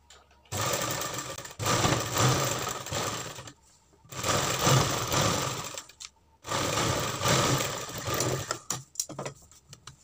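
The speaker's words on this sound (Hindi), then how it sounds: "बिल्कुल पाइपिंग के किनारे से ही सिलाई लगानी है हमें" Piping is stitched onto a sleeve on a sewing machine in three loud, close bursts of steady whirring separated by short pauses, followed by a few quick stop-start runs.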